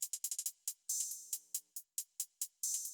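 Crisp hi-hats from a rap beat mix, a rapid run of sharp bright ticks with a few longer open hats, steady and busy, played alone with no voices.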